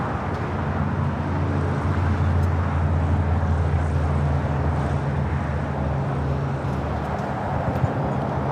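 A jet airliner takes off from LAX, its engines a loud, sustained roar with a deep droning hum that holds steady from start to end, with no voices over it.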